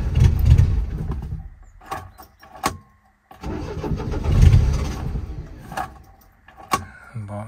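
A classic car engine set with too much ignition advance cranks and runs unevenly, surging loud and close, then cutting out briefly before revving again, with sharp clunks in between.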